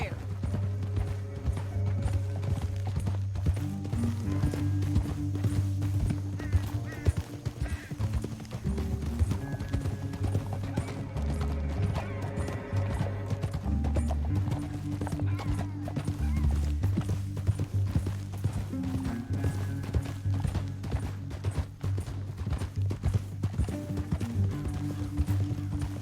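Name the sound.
horses galloping in a video game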